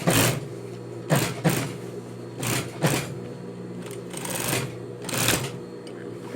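A sewing machine stitches and backstitches a seam in short, loud mechanical bursts separated by brief pauses, close up and with no talking.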